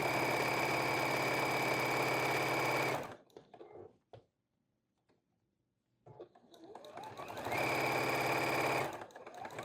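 Close, loud steady whirr of a sewing machine stitching along the edge of a flannel scarf, running for a few seconds, stopping into near silence with small handling clicks, then starting up again.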